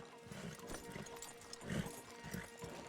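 Horses in Red Dead Redemption 2 walking at a steady clip-clop, with hooves thudding in an uneven rhythm, fairly close but quiet, and a soft snort partway through.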